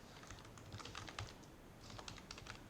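Keys clatter on a computer keyboard as a command is typed into a Linux terminal during a web-server command-injection test, a quiet burst of clicks, a brief pause, then another short run of keystrokes.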